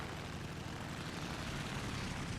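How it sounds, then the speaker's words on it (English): Propeller engine of the Finnish Morko-Morane fighter plane in War Thunder, a steady droning roar held at constant power throughout, close and continuous with no talk. "That extra power in the engine really does make a difference."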